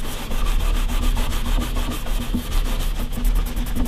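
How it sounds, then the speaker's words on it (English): An old rag rubs 3-in-1 oil into the frets of an acoustic guitar's rosewood fretboard, giving a steady, close, scratchy back-and-forth swishing with a regular rhythm and no talking. "you just sort of rub the 3-in-1 oil right into the frets"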